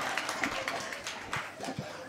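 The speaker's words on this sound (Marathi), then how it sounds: "आता वाजवा ना टाळ्या." An audience claps at a Marathi comic kirtan, brisk scattered hand claps filling the hall at moderate volume, with a voice talking over them.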